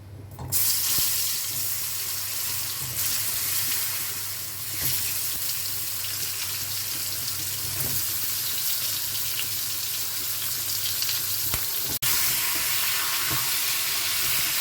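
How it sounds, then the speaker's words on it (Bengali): Potatoes and pointed gourd fry in oil in a kadai over a lowered gas flame, making a steady, moderately loud hiss that runs unbroken with a few faint clinks. "আমি একটু গ্যাসটা কমিয়ে ভাজছি নাহলে পুড়ে যাবে"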